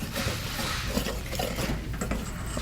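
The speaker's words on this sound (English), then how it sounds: "and keep on stirring" Amla powder stirred into hair oil: a spoon clinks and scrapes steadily against the container in a quick, continuous stirring rhythm, close up and moderately loud.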